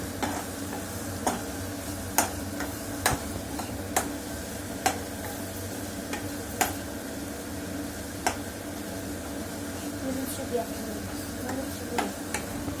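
Noodles are stirred in a pan, a utensil knocking and scraping against the metal in irregular sharp clicks over a faint continuous sizzle, close and fairly quiet.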